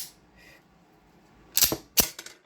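Sharp metallic clicks of an Inglis P-35 Hi-Power pistol being dry fired, two crisp snaps about half a second apart after a short quiet, close and alone.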